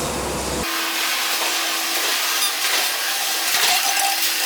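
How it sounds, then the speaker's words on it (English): An intelligent NC cutting machine cutting steel into small pieces makes a loud, bright hissing, grinding noise with a sustained tone, steady throughout after a brief shift near the start. "this is the intelligent NC cutting machine to cut the steel into small pieces"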